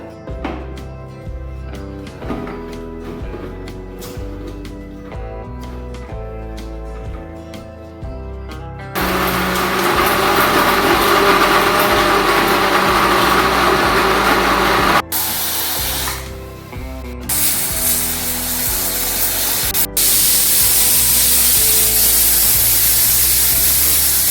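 A kitchen mixer grinder blends chutney made with tamarind, salt and curry leaves, its loud, steady whir running in several bursts with brief stops between them, following a stretch of quieter background music.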